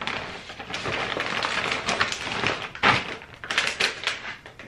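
A wooden drawer is pulled open and pushed shut with scraping slides and soft thunks, close by, amid rustling as hair curlers are packed inside; no talking.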